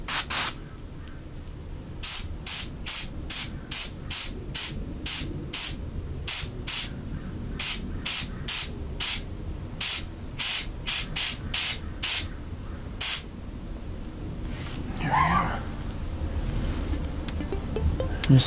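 Airbrush spraying paint onto a miniature figure for a tabletop army, in short repeated bursts of airy hiss, close and fairly loud, with quiet gaps between the bursts.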